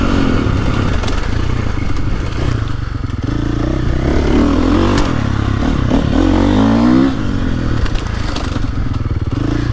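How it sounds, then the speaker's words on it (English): A KTM 450SXF four-stroke dirt bike ridden through a wooded loop, its engine droning and revving continuously up close, with throttle roll-ons, chain and terrain clatter, and no talking. "Probably the easiest 60 horsepower 450 motorbike there is to ride,"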